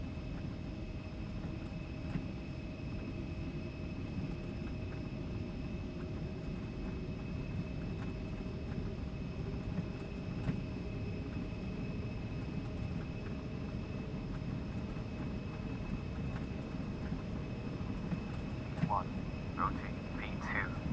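An airliner accelerates on its takeoff roll in the X-Plane 12 flight simulator, a steady low engine rumble and runway roar filling the scene, with occasional short clicks near the end.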